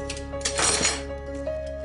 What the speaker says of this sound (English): Things like washing the cutlery 3 times.